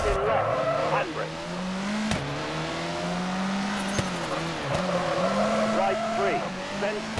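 A rally car in a WRC video game takes a hairpin with a handbrake turn, its engine droning loudly and steadily while tyres skid and scrub, with brief knocks as the car slides; a co-driver's voice calls notes over it.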